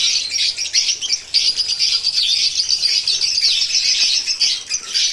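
Dense, continuous high-pitched chirping and twittering from many birds, steady throughout with no voices.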